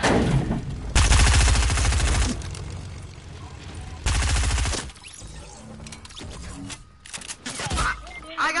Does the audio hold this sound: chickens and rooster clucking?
no